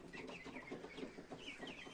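A flock of about forty young Isa Brown laying hens clucks in soft, overlapping murmurs, steady and close with no talk.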